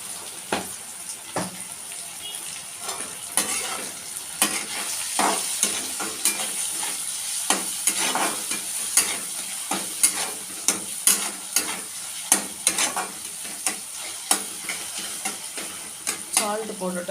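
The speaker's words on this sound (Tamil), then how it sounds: "தக்காளி வதங்கணும்." Tomatoes sautéing in a pan for a beans and groundnut fry, a continuous sizzle broken by frequent scraping strokes of a ladle against the pan in an uneven rhythm, close and fairly loud.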